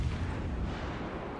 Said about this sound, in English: Front turrets are finally getting ready to engage.